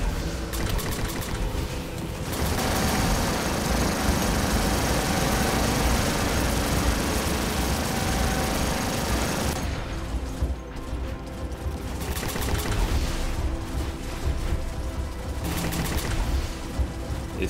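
Rapid double-shot gunfire from the Raven robot in the PC battle game War Robots, loud and dense bursts layered over a steady engine-like mechanical roar, with brief lulls between volleys.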